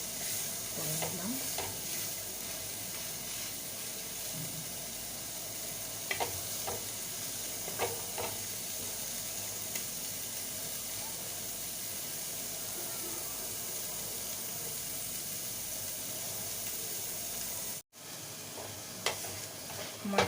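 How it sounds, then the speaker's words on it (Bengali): Chicken kebab fries over a high gas flame with a steady, moderately quiet sizzle and occasional small pops, continuing evenly for the whole stretch with one brief dropout near the end. "আমি এবার এটা জোর আঁচ দিয়ে একটুখানি ভেজে নেব"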